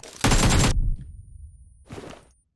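Bombing explosions in the PUBG Mobile battle royale game: a loud, broadband blast burst roars for about half a second and rumbles away, followed by a second, fainter blast near the end, with no talking.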